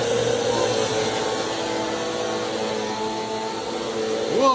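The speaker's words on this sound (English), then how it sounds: "All right, so we just vacuumed the carpet and the rug." A Bissell CleanView Swivel Pet vacuum cleaner runs over carpet with a loud, steady motor drone close by, its pitch shifting slightly near the end.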